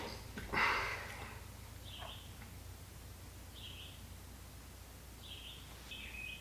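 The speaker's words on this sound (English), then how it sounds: "It's literally 1 a.m. in the morning and there are birds chirping." Birds chirp outdoors at 1 a.m., a few short, faint calls at scattered intervals over quiet night ambience, with a brief louder rustle near the start.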